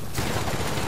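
Gunfire from The Outer Worlds video game, a dense burst of rapid shots crackling loudly and continuously through the whole moment.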